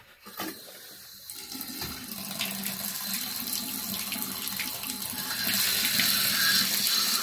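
A bathtub faucet, recently repaired after a leak with Teflon tape on a stripped pipe, turned on so water rushes out in a steady close hiss that builds and grows louder toward the end, with no talking.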